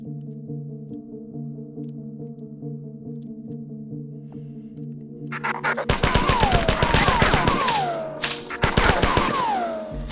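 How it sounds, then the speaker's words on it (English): Assault rifle fire in a Bungie shooter video game: after a steady electronic hum, rapid bursts of automatic shots break out, loud and close, mixed with sweeping game effects. "And this assault rifle really is cool."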